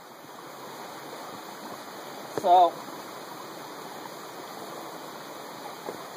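A river rushes steadily close by with a constant full hiss, and one short spoken word briefly rises above the flow.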